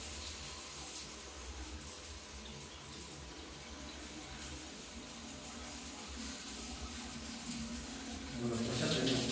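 Water runs steadily from a tap fed by a pressure pump, a faint continuous gush that grows louder near the end while a voice talks over it.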